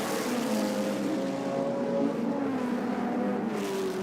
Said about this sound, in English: Look at the speed of the McLaren, and indeed the Chevron going with him in a straight line.